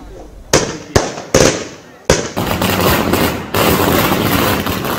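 Diwali firecrackers burst in sharp, loud cracks, a few separate bangs followed by a dense, continuous crackling volley that rattles on at close range.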